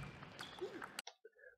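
A table tennis ball is struck with a spin shot during a match, producing a few sharp, quick clicks with a commentator's voice running underneath.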